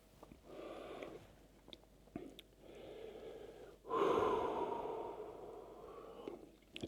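Slow, deep breaths during a yoga forward fold: a quiet inhale, a pause, then a longer and stronger exhale, close and soft with no talking.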